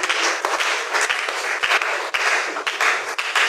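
A church congregation applauds at a worship service, dense sustained clapping from many hands that fills the room loudly and continuously, with no voices standing out.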